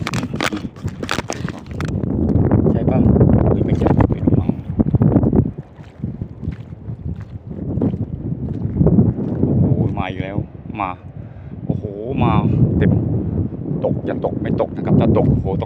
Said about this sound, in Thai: ทั้งลมทั้งฝนมาอีกแล้ว